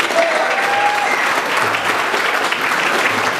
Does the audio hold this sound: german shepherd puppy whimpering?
no